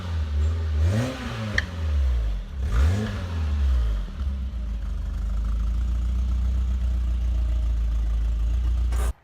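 A smoky Peugeot 205 GTI track car with a sticking wheel is driven down a street. Its engine revs up sharply twice, then settles into a steady, close drone that cuts off abruptly.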